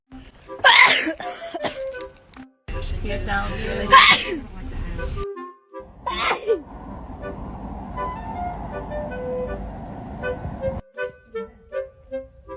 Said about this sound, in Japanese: 可愛いからくしゃみするね。